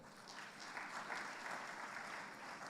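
Delegates at an international town planners' conference give a round of applause, a soft continuous wash of many hands clapping, distant and even, with no voices over it.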